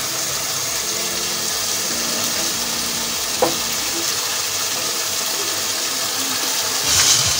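Chicken tikka masala being stirred in a pan, with a steady sizzle and frying hiss throughout, a brief clink of the utensil partway through and a slightly louder scrape near the end.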